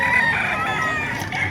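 A chicken for sale at the Bocaue tyangge market in the Philippines crows and clucks loudly and close by in a short, continuous call over a low market background.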